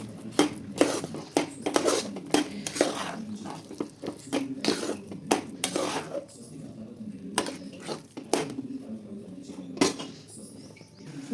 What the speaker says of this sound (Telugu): వేసి బాగా కలుపుకోవాలి.